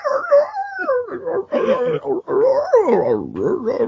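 A man imitates a hoarse dog howling on a chain with his voice, giving rising and falling strained, raspy howls and whimpers up close for several seconds.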